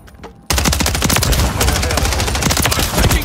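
Sustained automatic gunfire in the multiplayer game Call of Duty Modern Warfare 3 erupts suddenly after a short quiet moment, a loud, dense, rapid stream of shots that carries on without pause.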